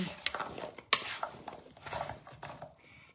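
Vegetables for a carrot, potato and sweet potato soup are stirred in a pot, with a run of scraping clinks and knocks from the utensil against the metal, fairly close and quiet.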